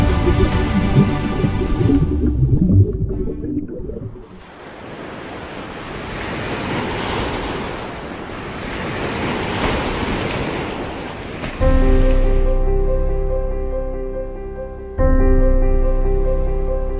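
Sea waves wash onto a sandy shore in Spain, a broad roaring surge of surf with wind that swells and fades over several seconds, set between stretches of tonal music and loud up close.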